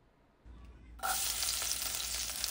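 Chopped onion and tomato hit hot oil for a garlic-heavy tempering with bay leaf, in a mutton sukka; after a quiet start, a loud, steady crackling sizzle bursts in and keeps going, with no voices.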